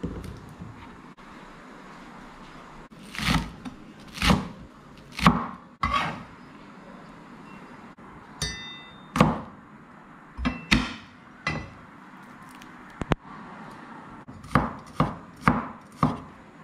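A knife chops ingredients for potato and mushroom dishes on a cutting board, sharp, close knocks coming singly and in quick bursts with quiet pauses in between.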